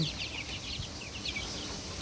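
Hill breed chicks cheep in a soft, faint chorus of short high peeps, several overlapping in quick succession against a low background hum.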